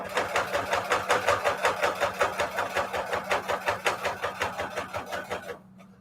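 A sewing machine stitches down the middle of a junk journal signature, a steady fast mechanical chug with regular pulsing strokes, close and fairly loud, stopping just before the end.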